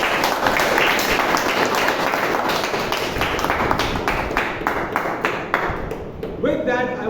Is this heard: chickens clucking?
no